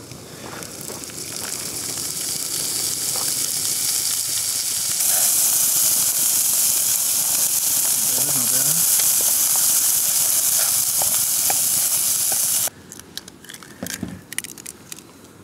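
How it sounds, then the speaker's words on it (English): A camping grill at a Pacific Crest Trail campsite at Little Bear Springs is fired up, giving a steady loud hiss that builds and holds for about twelve seconds before cutting off, followed by faint clatter. "Time to fire up the grill."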